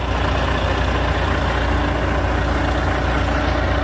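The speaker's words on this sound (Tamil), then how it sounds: "கம்ப்ரஸர் ஆன்ல இருக்கு," A truck's air compressor runs with a steady, loud low mechanical drone and broadband hiss, unbroken from start to finish with no talk.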